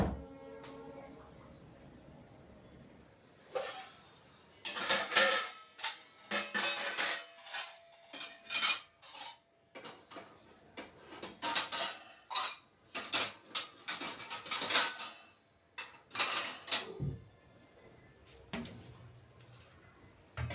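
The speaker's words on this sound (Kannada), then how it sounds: "ಪಾತ್ರೆಗಳನ್ನೆಲ್ಲ ಜೋಡಿಸ್ಕೊಂಡಿದ್ದಾಯಿತು." Dishes and metal vessels being stacked and put away in a home kitchen, a series of close clinks, clatters and knocks in irregular bursts separated by brief pauses.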